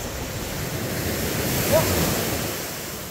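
Sea waves roll steadily onto the beach at Teluk Cempedak, Kuantan, a continuous broad wash of surf mixed with wind buffeting the microphone, loud and unbroken throughout.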